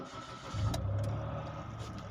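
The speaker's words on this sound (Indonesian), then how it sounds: "Coba kita nyalakan, kita starter, injak remnya," Mitsubishi Mirage engine cranks and fires up, settling into a steady, fairly loud idle hum with a low rumble, no voices over it.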